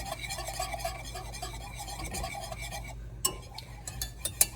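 Pastry cream being stirred in a pot with a utensil, soft repeated scraping and light clinks, fairly quiet and close, with sharper taps near the end.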